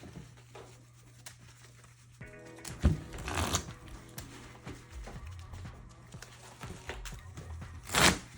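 Pokemon TCG cards being shuffled at a tabletop game, a run of soft riffling and flicking with a couple of sharper, louder card bursts near the start and end, close and fairly quiet with faint background noise.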